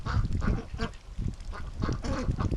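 Ducks, including Rouen breeding ducks, quacking nearby in a short, fairly quiet burst of repeated calls.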